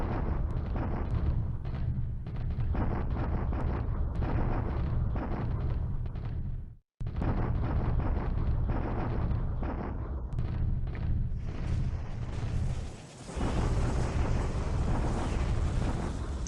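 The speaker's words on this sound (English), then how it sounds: "I wonder what Evoken is feeding his artillery crews" Sustained WWII artillery fire from a strategy game set at Rabaul in 1941, heard as a dense, continuous roar of booms and rumbling blasts. A brief drop to silence breaks it midway before the barrage resumes, brightening toward the end.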